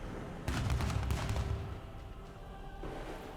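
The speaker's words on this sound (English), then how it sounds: "you hear the dim sounds of cannon fire" Distant booming cannon fire and gunfire in a stormy setting as a sound effect for a tabletop role-playing scene, a burst of rumbling blasts followed by a fading low roll and a later softer boom.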